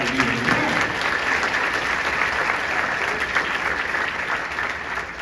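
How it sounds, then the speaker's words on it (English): A crowd applauds steadily at an Iowa State Education Association gathering, a dense, even wash of clapping from the audience that holds at a moderate level throughout with no speech over it. "Applaud for that"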